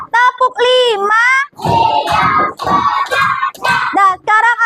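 A classroom of children claps in a rhythmic five-beat school clap routine, with close, loud bursts of applause between stretches of group chanting and a teacher's voice.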